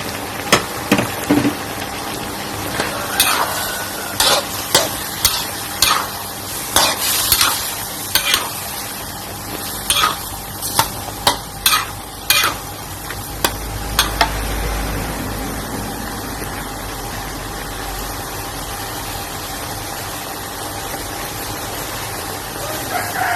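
Sweet and sour pork and sausage with bell pepper stir-fried in a pan, a steady sizzle carrying repeated sharp scraping strokes of the spatula in an uneven rhythm, close and fairly loud.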